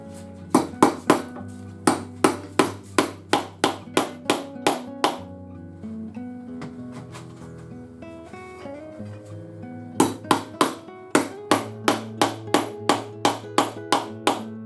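Wooden wedges are driven with a hammer into the joint of a handmade wooden stick chair. Two quick runs of rapid, ringing close blows are separated by a few seconds of quieter shuffling and tapping.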